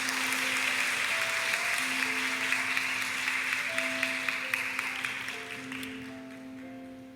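Audience applause welcoming a lawyer guest speaker at a Wednesday morning women's church worship service, steady sustained clapping from a congregation that holds for several seconds before gradually thinning out.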